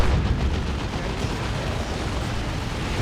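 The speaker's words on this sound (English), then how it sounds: "A creeping barrage from the Lord General." Artillery in Warhammer 40,000: Dawn of War 2 pounds in a creeping barrage, a dense, continuous rumble of overlapping booms and blasts filling the whole stretch.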